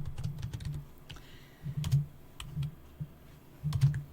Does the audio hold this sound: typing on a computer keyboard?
yes